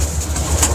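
Pigeons of a prized champion breed coo softly in a brief, close, low murmuring burst with no talk.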